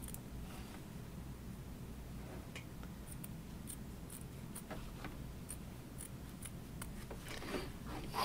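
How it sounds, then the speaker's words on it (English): Small clippers snipping embroidered fabric around a heart shape still in the embroidery hoop, a series of quiet, irregular crisp snips over faint room hiss. "I'm just going to use my little clippers and trim around the heart."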